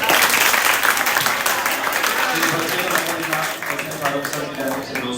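Audience applause after a student's Teachers Day speech at an Anglo Urdu high school, a dense sustained crowd clapping filling the room, fading slightly toward the end.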